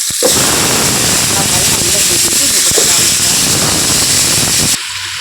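Vegetables for a Thiruvathirai vegetable kuzhambu tipped into hot oil already fried with red chillies, setting off a loud, steady sizzle that hisses on for several seconds and then drops away abruptly.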